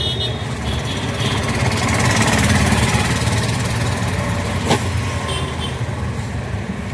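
Auto rickshaw engine running steadily in Bangalore traffic, a continuous close mechanical drone with a faint sharp click near the end.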